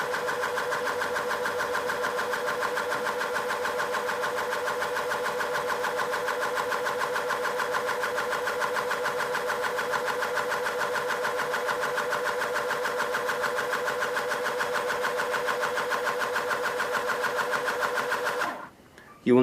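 A small pump inside a Wally Box III pressure loop calibrator runs with a steady, even mechanical hum, then cuts off abruptly just before the end.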